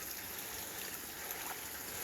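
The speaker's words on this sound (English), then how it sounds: "This is my man-made creek and waterfall." A small man-made backyard creek and waterfall flowing into a pond, a soft, steady trickle and wash of water heard close but faint, with no voices.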